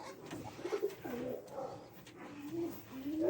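Pigeons cooing in a loft that houses racing, tippler and roller pigeons, several soft low throaty coos that repeat in short rolling phrases, close and fairly quiet with a little background hiss.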